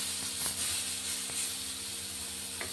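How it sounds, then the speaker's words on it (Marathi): Tomato pieces fry lightly in oil in a pan, giving a steady close sizzle and hiss with faint clinks of a spoon. "टोमॅटो थोडं हलकं फ्राय करून घ्यायचं"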